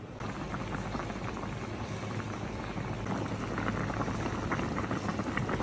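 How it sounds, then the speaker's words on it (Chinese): Hot pot of fat intestines simmering on a stove after sugar and salt are added, a dense, steady bubbling boil with crackling pops that holds evenly loud throughout, no voices. "开火，咱们炖10分钟。"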